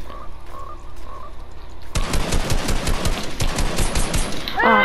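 Frog croaking in a farm-themed video game, a soft low croak at first, then buried under a sudden loud burst of rapid machine-gun fire that rattles on continuously.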